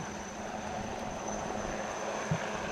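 A Navy ALH helicopter flies off over Visakhapatnam beach during Navy Day celebrations with Marine Commandos hanging from it, a faint, steady distant rotor drone under a thin high whine, with a brief thump near the end.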